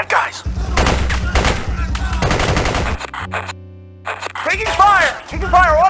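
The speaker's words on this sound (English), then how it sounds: "Taking fire, automatic weapons." Automatic weapons fire rattles in loud, dense bursts in the 1996 PC game Spycraft: The Great Game, with voices speaking over the shooting.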